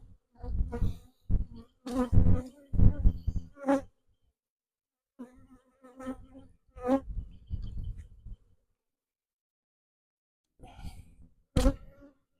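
Honey bees buzz close by at a weak hive during a frame inspection, in loud intermittent bursts of droning with short pauses and a long quiet gap before a final sharp burst.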